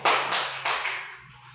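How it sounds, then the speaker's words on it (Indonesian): A few students in a classroom clap for a classmate, two short bursts of applause close by that quickly fade away. "tepuk tangan untuk Julio"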